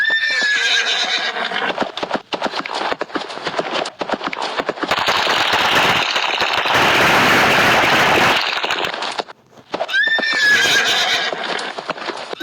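In a Roblox game, a horse's hooves clip-clop rapidly at a gallop with loud neighs and whinnies at the start and end, and a dense burst of noisy crackle in the middle.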